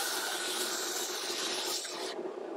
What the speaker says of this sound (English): We're bringing the saddle down to its final length, but we're also rounding off the ends so that it drops into the slot.